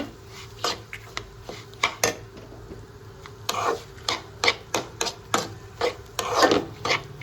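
Semolina (rava) is stirred in a pan, giving a rhythmic series of gritty scraping strokes, close and fairly loud, about two per second with no talking.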